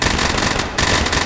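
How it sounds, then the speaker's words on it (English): Rapid submachine gun bursts from the VR shooter game Tactical Assault VR, loud and close, a dense crackling volley with a brief gap before firing resumes. "I heard the SMG sound."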